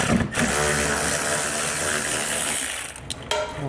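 Ratchet wrench or power driver backing out two 8mm screws while fitting an EcoHitch Stealth trailer hitch receiver, a loud continuous mechanical whir lasting several seconds, close, then a couple of brief clicks.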